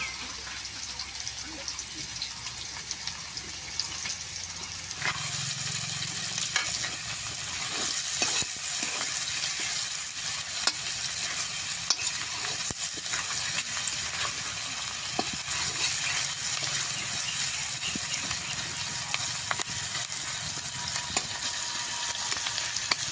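Garlic, onion and green chilies frying in hot oil in a pan, giving a steady, close crackling sizzle with occasional stirring clicks, lasting throughout.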